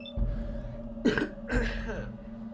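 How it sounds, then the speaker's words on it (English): Two rough coughs, close and fairly loud, over a steady background hum, each with a throaty, rasping tail. "Had a bit of a cough there."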